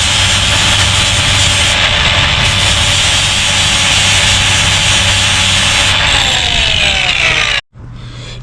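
Power tool cutting off a part on a 1994 OBS truck during an LS swap, a loud steady grinding whine running continuously, close, then stopping abruptly near the end.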